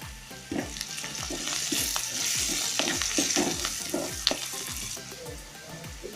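Okra sizzles in a pan as salt and curry leaves go in, with frying crackle throughout and repeated low knocks and scrapes of stirring, close and steady, with no talking.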